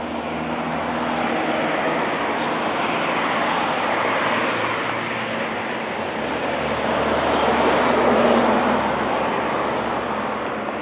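Diesel locomotive of a Rumo freight train idling before departure, a steady, loud low rumble with a broad hiss that swells slightly near the end, heard alone.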